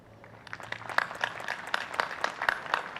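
An audience at a college commencement ceremony applauds faculty and staff, scattered clapping that swells into a steady, fairly distant round of applause.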